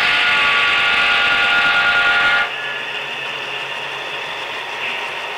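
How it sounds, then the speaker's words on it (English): A harmonic whistle blares briefly then stops, leaving a steady hissing chuff and low mechanical hum from an HO-scale model steam locomotive idling in neutral nearby. "the boiler makes sounds just like a real steam engine would do."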